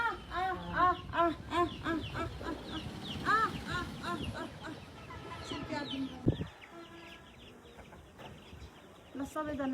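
Chickens, part of a flock with white diarrhea disease, cluck busily while eating, giving repeated close, chattering calls that dominate the first half and then thin out to softer scattered clucks against a faint background.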